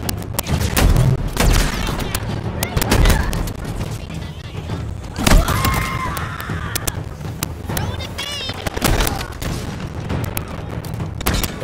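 Shotgun blasts in Halo Infinite on Heroic difficulty: repeated heavy booming shots and thuds among other combat noise, with a player talking over the gunfire throughout.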